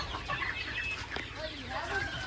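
A chicken clucks during an animal attack in a yard, its calls mixed with people talking nearby over steady background noise.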